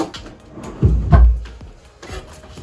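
A household drawer slides open or shut with two close, heavy wooden thumps and some rubbing, followed by fainter handling sounds.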